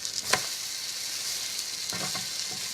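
Steady sizzle of herb eggy toast (a grilled cheese sandwich dipped in egg) frying in a pan, with a couple of brief scraping clicks from a utensil partway through as the bread is turned.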